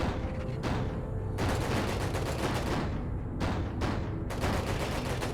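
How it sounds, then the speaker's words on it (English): Rapid gunfire in a space battle in the video game ERA ONE, dense bursts of repeated shots that stop and restart several times, loud and close with no talk. "We're taking fire."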